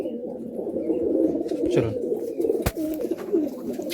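A single adult male Malwai pigeon coos continuously nearby in a loft, its low throaty murmur steady throughout, while a voice speaks briefly and a sharp knock sounds once.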